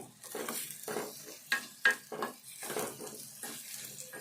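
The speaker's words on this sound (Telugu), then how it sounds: "ఇదంతా కూడా కొద్దిసేపు వేగాలి" Lentils and tomatoes frying in a pan, a soft sizzle under repeated scraping and stirring strokes with a few sharp clinks of utensil on metal, close and unaccompanied by speech.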